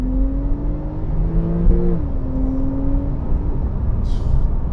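A Porsche 991 Turbo S accelerating hard in Sport Plus mode: a loud, close engine note climbs steadily, breaks at a gear change, then holds a strong droning pitch.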